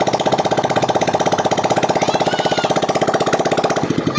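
A Yamaha Mio i 125 scooter engine catches on push-button start and runs at a fast, steady idle, its loud rhythmic putter continuous and close throughout.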